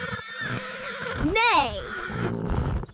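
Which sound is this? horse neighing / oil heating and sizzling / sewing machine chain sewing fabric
horse neighing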